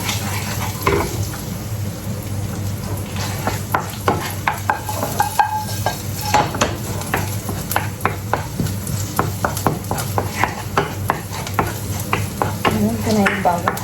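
Butter sizzles as it heats in a pan while a spatula stirs and scrapes with sharp intermittent clicks, close and steady, with a voice speaking at times.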